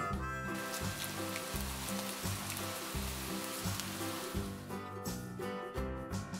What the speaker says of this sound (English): R for rain.